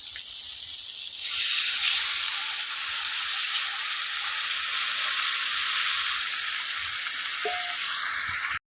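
Water poured into a fish curry hisses up into a loud, steady sizzle in the pan, starting abruptly and holding for several seconds before cutting off.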